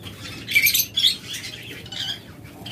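A pair of lovebirds at a bird seller's chirps in short, shrill bursts, two clear calls close together early on, then softer twittering over a steady low background hum.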